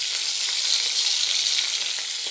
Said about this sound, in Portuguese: Olha, começou a fritar, então agora nós vamos virar do outro lado.